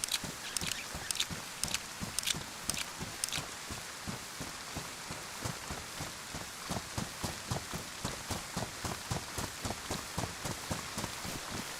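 Rain falls in the video game DayZ as a steady, close hiss of drops on surfaces, overlaid by a regular run of soft rhythmic footstep-like taps.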